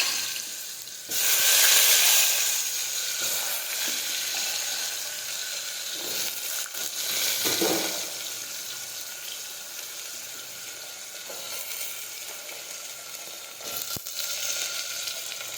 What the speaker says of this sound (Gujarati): હવે આપણું તેલ છે તે ગરમ થઈ ગયું છે. હવે આપણે તેમાં રાઈ અને જીરું નાખી દઈશું.